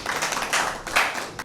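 Audience clapping at a Father's Day mushaira poetry gathering, a short burst of uneven claps in waves that rises and falls over a second and a half.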